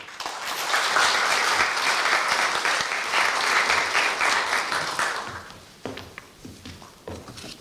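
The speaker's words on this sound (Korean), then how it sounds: "김은성 주임님을 큰 박수로 맞이하여 주십시오" A crowd claps warmly to welcome a retiring staff member at a Korea University retirement ceremony. The applause holds steady for several seconds, then fades into scattered taps and footsteps.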